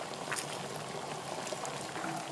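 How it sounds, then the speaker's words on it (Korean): Water for cooking glass noodles boils in a pot with a soft, even bubbling hiss, close and fairly quiet, steady throughout. "당면을 삶을 물을 끓여 보겠습니다."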